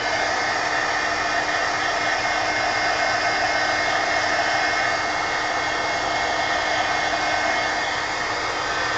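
A hair dryer dries powder on an art journal page, blowing as a loud, steady, unbroken whoosh from close by with no voices over it.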